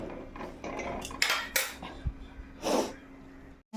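A pot of posto, poppy seed curry, is set on a gas stove in a home kitchen, with a few close metallic clanks and scrapes of cookware, plus a sneeze or cough among the quiet clatter.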